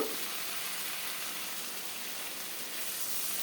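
Ginger-garlic paste with cumin, coriander, chili and turmeric powders hisses in a pan with a splash of water, a steady soft sizzle without pause, faint and close.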